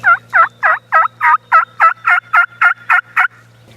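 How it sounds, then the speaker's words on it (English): A wild turkey gobbles in a rapid run of about a dozen even, pulsing calls that repeats steadily, clear and fairly loud with no talking. "He's still gobbling back there."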